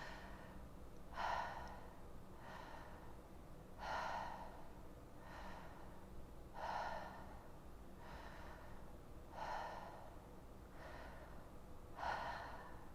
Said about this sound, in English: You're probably hearing the sound of my exhale.